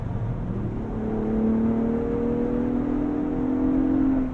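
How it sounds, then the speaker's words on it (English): A Ford Bronco Raptor in sport powertrain mode accelerates hard, its engine note climbing steadily after a quick downshift, heard from inside the cabin with a rising whirring drone. "when we go back to the sport powertrain setting, we can see that when I put my foot down"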